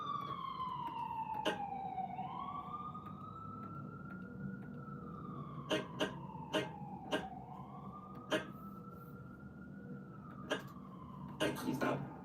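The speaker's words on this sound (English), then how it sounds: "Sorry about the sirens, guys." Emergency vehicle sirens wailing outside during a live stream, a rising and falling tone sweeping steadily and fairly distant, with occasional clicks and a low background hum throughout.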